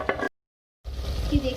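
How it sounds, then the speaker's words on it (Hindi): Chicken fries in oil inside a handi pot for a Karachi-style tandoori handi, a close crackling hiss split by a short silent gap, with faint utensil scrapes. "ये हमारी चिकन जो है फ्राई हो रही है"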